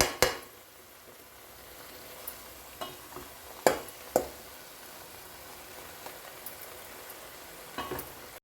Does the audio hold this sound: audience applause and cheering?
no